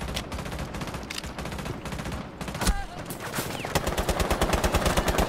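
Rapid bursts of gunfire in the tactical shooter Rainbow Six Siege during a ranked match, dense and continuous with a steady stream of sharp shots, growing louder and more regular near the end.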